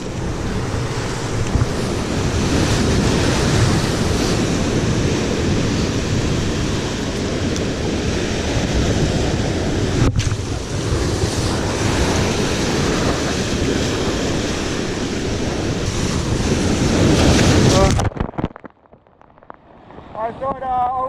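Sea waves surge and splash over a rocky fishing point while tailor fishing, a loud continuous roar of surf and wind buffeting the microphone, ending in a sudden drop to quieter dripping and rustling.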